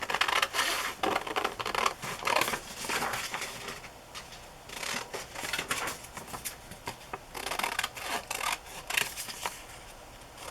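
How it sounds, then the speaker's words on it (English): Scissors snipping around a stamped paper image for a collage, making repeated close crisp cuts and paper rustles in uneven bursts. "I'm going to cut that out and see if I can make it work."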